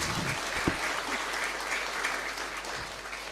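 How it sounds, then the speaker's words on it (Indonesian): A crowd claps in sustained, dense applause throughout, loud and close, with no voices standing out, at an Islamic study talk before a question-and-answer session. "Oke, boleh beri tepuk tangan sekali lagi untuk Ning Sheila."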